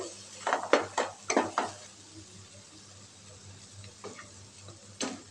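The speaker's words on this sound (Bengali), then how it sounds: "ঘিটাকে এবার মিশিয়ে দেবো।" A spoon stirring ghee into motichur laddu mixture in a pan, a run of sharp scraping and tapping strokes in quick succession, then a pause with a few softer clicks and a final knock, close and fairly quiet.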